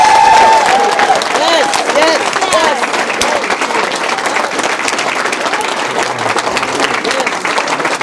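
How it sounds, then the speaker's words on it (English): A graduation audience claps and cheers loudly and steadily for the first graduating class of the Hope for Prisoners program, with a few whoops and crowd babble mixed into the sustained applause. "Would you please give them a big, gigantic round of applause?"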